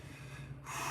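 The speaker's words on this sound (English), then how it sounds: "Big exhale, pull this bag through." A strong, forceful exhale during a bag pull-through strength exercise, a breathy rush that builds and grows louder toward the end over a low steady background hum.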